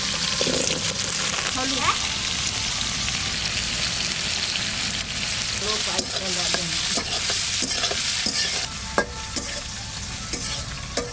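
Potatoes go into a hot frying pan with cumin tempering while chalkumra greens are cooked, and they are stirred. A steady loud sizzle runs throughout, with scraping stir strokes and occasional clinks, and no talking.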